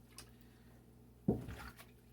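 A wig is worked by hand in a basin of water, a quiet still stretch broken by a single soft wet slosh and squish midway, followed by a few faint trickles.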